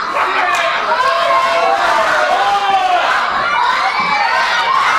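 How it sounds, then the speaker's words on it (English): Wrestling crowd at an indoor show, many voices jeering and taunting a wrestler in a steady, loud wall of shouts and chatter that continues throughout. "The crowd constantly bickering at him"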